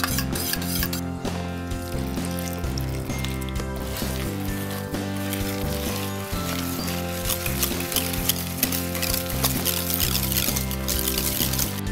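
Liquid pours steadily into mashed potatoes, a continuous wet, gurgling stream with faint scraping and stirring mixed in, close and alone.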